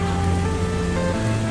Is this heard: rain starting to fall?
yes